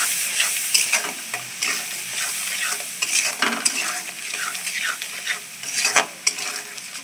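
A spice mixture with salt and turmeric sautés in a pan, crackling and sizzling up close while a utensil scrapes and clatters through it in an uneven stirring rhythm.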